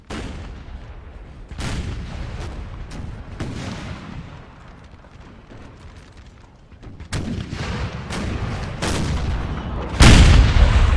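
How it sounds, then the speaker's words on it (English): Ten 6-pounder artillery guns in the Napoleon Total War game fire in a rolling sequence of loud booms, spread irregularly across the clip with a heavy burst near the end, over a constant battlefield rumble. "they're all just firing and shelling on that French position"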